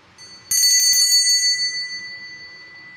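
A single bell is struck once, sharp and bright, then rings on and fades over a couple of seconds. It marks fortune-telling playing cards and sounds close, with no talking over it.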